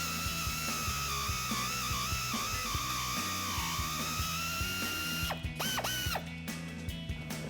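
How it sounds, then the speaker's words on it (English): An air ratchet with a 15mm deep socket runs a sway bar end link nut on a 1994-2004 Mustang GT, whirring steadily and close with a continuous buzzing drone, then shifting pitch and stuttering near the end. "I have that 15mm deep socket on my air ratchet"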